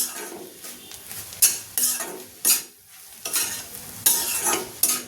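Fenugreek greens and peas sautéed in a pan with coarsely crushed peanuts: a soft sizzle underlies repeated loud bursts of a spatula scraping and stirring, in an uneven rhythm of about six strokes, close up and with no speech.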